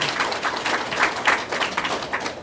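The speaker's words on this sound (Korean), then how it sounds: "박수 한번 올려드릴까요?" An audience at a Korean spiritual training lecture applauds with dense, steady clapping throughout, moderately loud and filling the room.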